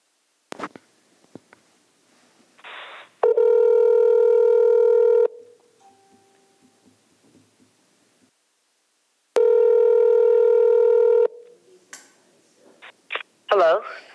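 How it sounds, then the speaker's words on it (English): Dial tones and telephone connection sounds as a caller is rung during a joint Board of Education and City Council public meeting, two long steady tones with short clicks between, loud and clear, ending as a voice begins. "Dialing her now."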